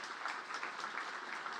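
An audience applauds at an award ceremony honoring heroes at a law-of-war conference, a steady, even patter of many hands clapping that goes on without a break at a moderate, slightly distant level.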